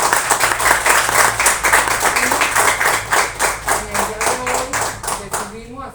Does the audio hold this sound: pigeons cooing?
no